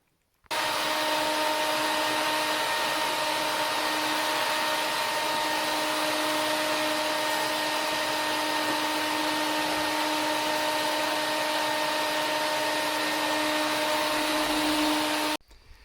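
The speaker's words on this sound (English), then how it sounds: "I got my old shop vac, so I'm going to see what I can get up off the floor here, get things a little bit less gritty and sandy" A shop vac sucks sand and grit off a wooden shed floor at a cabin, a loud steady whine and roar that starts abruptly, holds nearly unchanged for about fifteen seconds, then cuts off, with no talking.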